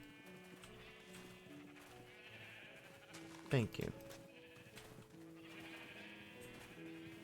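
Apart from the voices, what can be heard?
sheep bleating in a video game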